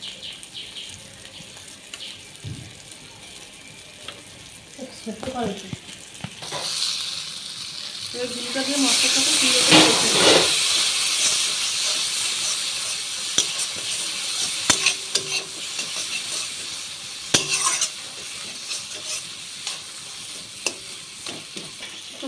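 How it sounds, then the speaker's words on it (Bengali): A spice paste for Sundarbans crab curry fries and gets stirred in a pan, with a low sizzle and scraping that grows into a louder hissing burst midway. Stirring clatter and occasional faint background sounds run throughout. "মশলা খুব সুন্দর ভাবে কষে গেছে"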